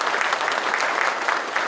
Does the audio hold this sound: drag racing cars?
no